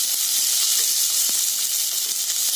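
Onions and curry leaves, added after mustard seeds, sizzle in hot oil in a pan while being sautéed for a vegetable kurma, a steady bright hiss broken by a faint stirring clink.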